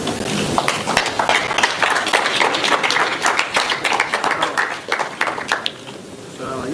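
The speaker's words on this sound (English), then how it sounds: "A round of applause" An audience at a youth agriculture side event gives a round of applause, dense clapping that continues for several seconds before thinning out near the end.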